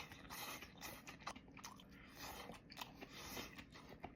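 Crunchy bites and chewing of stir-fried rice rolls with bean sprouts and green onions, close and crisp, repeating in short bursts with no talk.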